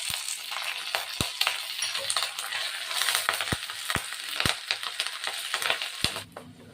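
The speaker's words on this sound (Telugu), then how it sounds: "ఇది కొంచెం వేగిన తర్వాత కొద్దిగా కరివేపాకు వేస్తానండి" Sliced onions and green chillies fry in a pan of oil, giving a soft, constant sizzle punctuated by sharp clicks of a spatula striking the pan.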